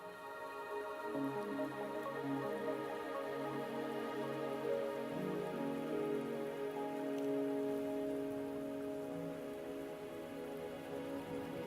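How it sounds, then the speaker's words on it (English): Steady rain falls in a video game scene, a soft continuous patter on surfaces heard faintly under quiet tonal background music, with no voices. "Are you trapped here by the rain?"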